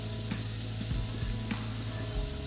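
Curry leaves sizzle in hot oil for a mango dal, with steady frying hiss and a few low scraping knocks as they are stirred; no voices.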